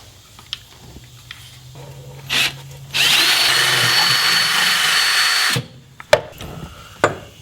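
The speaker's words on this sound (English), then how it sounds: "I've finished drilling the pilot holes all around the 6 holes there" A power drill whirs steadily for a few seconds while drilling pilot holes for a Jeep transfer case skid plate, its pitch rising as it spins up, with brief knocks and handling noises before and after.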